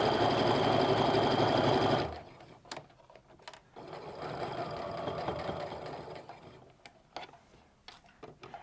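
A sewing machine stitching a quarter-inch seam through quilt fabric for half-square triangles runs in a loud, steady, fast whir for about two seconds, then stops, leaving quieter handling clicks and soft taps.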